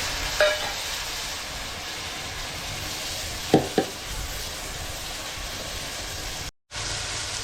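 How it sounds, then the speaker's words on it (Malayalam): Chopped tomatoes sautéing and being stirred in a pan over softened onions for a vegetable biryani, a steady close sizzle with a few sharp scrape clicks from the spoon partway through. "ഇതിലേക്ക് നമുക്ക് തക്കാളി വഴറ്റി കൊടുക്കാം"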